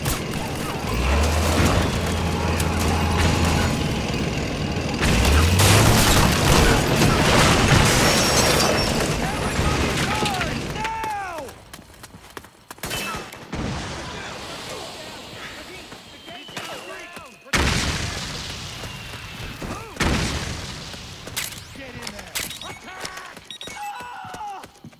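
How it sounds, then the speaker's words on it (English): Bursts of gunfire and booming explosions in Metal Gear Solid 4 on PS3, set at a South American power station: heavy continuous firing early on, then scattered sharp blasts and impacts, with voices speaking over much of it. "Suppressing fire!"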